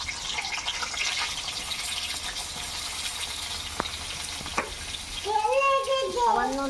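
Eggplant pieces sizzle in hot oil left over from frying bitter gourd while a shukto dish is being cooked. A steady close crackle fills most of the stretch, with a couple of sharp clinks, and a voice speaks over the frying near the end.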